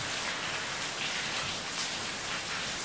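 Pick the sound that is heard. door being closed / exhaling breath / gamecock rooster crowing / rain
rain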